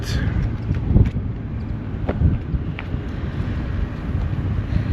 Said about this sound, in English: Sadly, it's so windy here today, so I cannot show you.